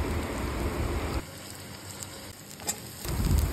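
Grated carrot frying in a pan for a vegetarian ghugni masala, heard as a dense, crackling sizzle that drops sharply after about a second, stays softer, then swells again near the end.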